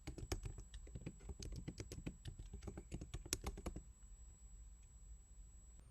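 Keystrokes on a computer keyboard typing captions, a rapid uneven run of close clicks for about four seconds, then stopping into quiet room noise.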